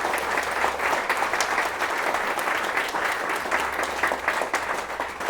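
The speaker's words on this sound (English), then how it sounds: "I think Jim needs a wee round of applause for what he did yesterday" An audience at a talk on the Calton Weavers strike of 1787 gives a sustained round of applause, dense steady clapping filling the room from start to finish.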